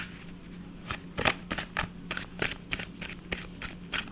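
Oracle cards being shuffled and one drawn for a gratitude reading: a run of quick papery riffles and flicks, close and fairly quiet, repeating in irregular bursts with a faint steady hum underneath.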